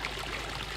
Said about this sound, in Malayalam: ആ മോട്ടർ ഓണാക്കിയിട്ടുണ്ട് കേട്ടോ അപ്പോൾ ഇവിടെ വെള്ളം ചാടിയിട്ട്